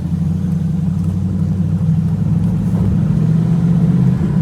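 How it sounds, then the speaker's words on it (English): A TVR Chimaera V8 engine rumbles deep and steady at idle, a low throbbing tone with slight swells in pitch, close by and alone. "this car does sound amazing though, the V8"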